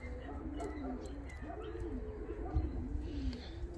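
Show and costume pigeons coo in low, rolling repeated phrases, fairly close, with someone talking over them throughout.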